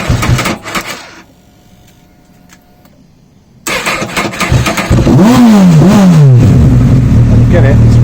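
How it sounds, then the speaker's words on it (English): A warm Honda CBF1000 motorcycle with a suspected faulty stator cranks, then starts, revving up sharply twice before settling into a loud, close idle, after a brief voice at the start. "it doesn't like starting when warm"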